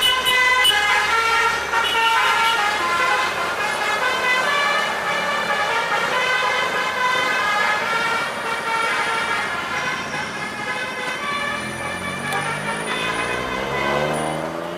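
Musical basuri telolet horns on a bus at Sitinjau Lauik, playing a loud, continuous multi-note melody with stacked harmonic tones over road traffic rumble for the whole stretch, ending in a rising sweep.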